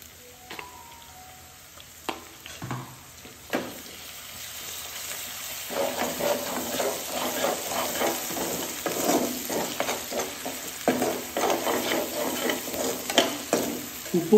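Chicken sizzles in its own fat with ginger garlic paste while a spoon stirs it in a pan, with sharp scraping strokes early on, then a steady, louder fry through the rest.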